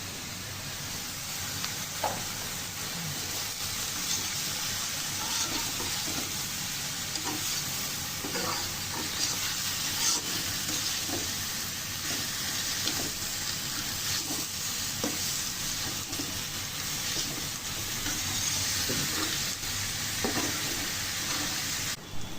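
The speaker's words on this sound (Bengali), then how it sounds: "ডাটাগুলো একটু কষে নিয়ে পানি দিয়ে মাছটা দিয়ে দিব" Vegetable stems for a fish curry sizzle steadily in a hot pan while a spoon stirs and scrapes them in irregular strokes, with no talking throughout.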